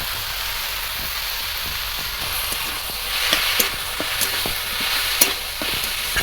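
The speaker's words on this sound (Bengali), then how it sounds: "এবার এটা একটু কষিয়ে নেবো এইভাবে কষানো খুব ভালো করে হয়ে গেছে" Spinach with turmeric, chili powder and ground cumin paste sautés in a pan, a continuous soft sizzle broken by scattered clinks and scrapes of stirring that grow a little busier toward the end.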